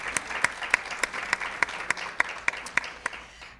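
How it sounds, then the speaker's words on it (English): Applause from a lunch meeting audience, with a few distinct nearby claps rising in a steady rhythm above the softer massed clapping of the room. "Let's give her another round of applause."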